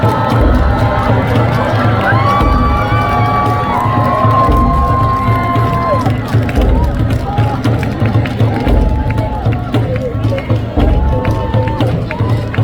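A large outdoor crowd at a Korean presidential campaign rally in Seoul City Hall Plaza cheers and applauds loudly and continuously, with shouts and whoops rising over the steady roar and a speaker's voice over the crowd.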